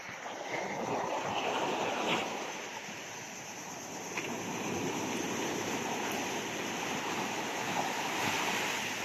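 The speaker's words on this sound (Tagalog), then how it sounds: "Ang lakas ng alon mga kamatik." Strong ocean waves surge onto the shore, a broad continuous roar with gusty wind noise on the microphone, steady and fairly distant, with no talk.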